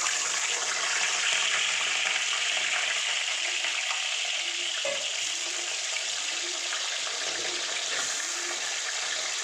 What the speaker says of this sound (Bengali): প্রথমে আমি আলুটা ভেজে নিচ্ছি।